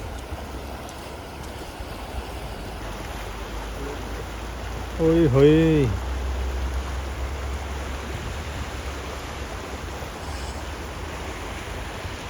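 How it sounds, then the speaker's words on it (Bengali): Water runs steadily through a small canal in a snowy town in Bishkek, with snow banked on both sides. A constant close rushing wash is briefly joined by a short voice midway. "খাল বয়ে গেছে, আর এখানে দেখেন পানি বয়ে যাচ্ছে"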